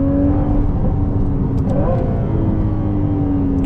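A Ferrari 296 GTB's turbocharged V6 roars steadily at close range, a continuous throaty exhaust drone with a slight rise in pitch partway through.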